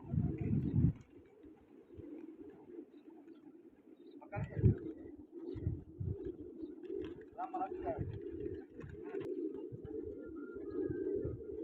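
Peshori pigeons coo in low, repeated soft calls throughout, close by, mixed with faint chirps and some background murmur.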